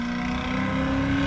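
Loud car passing close outside, a steady droning engine roar with a strong low hum held evenly throughout, heard alone with no talk.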